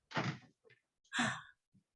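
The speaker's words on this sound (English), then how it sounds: "I'm going to close my door really quick" A door being closed indoors, heard as a couple of soft bumps and a louder thunk followed by a small knock, fairly close and standing alone without talk.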